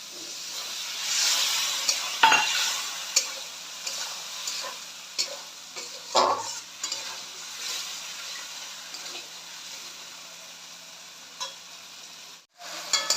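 Spice masala frying in a pan for a Bengali potato and snakehead fish curry, a steady soft sizzle broken by scraping stirs and a few sharp clacks of the spoon, heard up close with no talk.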